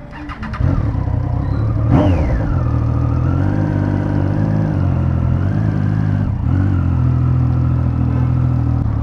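Triumph Street Triple motorcycle engine cranks and fires, then revs sharply once before settling into a loud, steady close idle with a brief dip and recovery.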